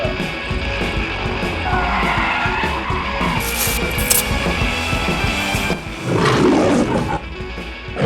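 A BMW 740i Limited sedan's tires screech and skid, a loud harsh squeal over engine roar that rises and falls across several seconds, close and dramatic, with no talking.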